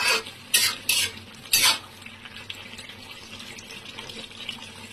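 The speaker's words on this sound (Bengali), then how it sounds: "এবার ঢাকা দিয়ে আবার ঢাকনা করে একটু নেড়ে দিচ্ছি" Shrimp dish being stirred in a pan, several scraping strokes early on over a steady low sizzle, close and fairly loud, with no talking.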